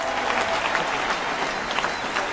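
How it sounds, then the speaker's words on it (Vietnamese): Loud, sustained applause from an audience at an outdoor Saturday-night street art performance in Hai Phong, following a band's opening act, steady dense clapping throughout with a crowd murmur underneath. "tràng vỗ tay thật lớn được không nào?"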